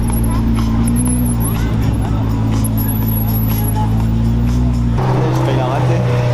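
Supercars, including a Ferrari 196 GTB, rumble past at the Carburacoeur car event with loud, steady engine drone and a crowd talking over it, then an abrupt change in the engine tone.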